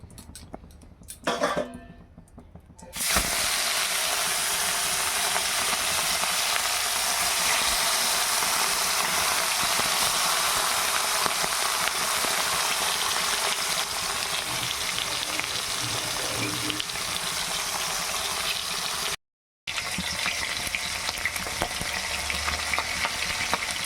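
Chital fish pieces sizzle and fry steadily in hot oil, a loud, continuous hiss that starts after a short clatter and holds with a brief break near the end.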